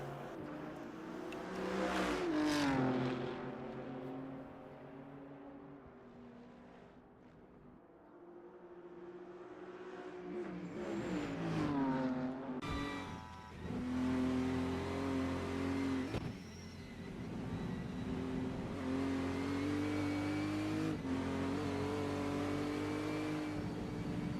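A BMW race car engine in an NLS endurance race, from the Nürburgring 3-hour series, roars steadily and close, its pitch rising and falling through gear changes and revving for the whole stretch.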